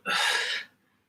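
A single breathy exhale during a Pilates forward fold, short and close, lasting about half a second before fading to silence.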